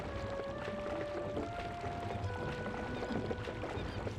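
Link swimming through water in Zelda: Twilight Princess on the Wii, soft continuous splashing and sloshing strokes under quiet game music, steady and moderately close.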